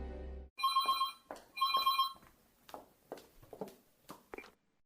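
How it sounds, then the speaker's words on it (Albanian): A telephone rings twice in close succession, clear and near, followed by several soft footsteps approaching in a quiet room. "Megjithatë dikush më telefonoi."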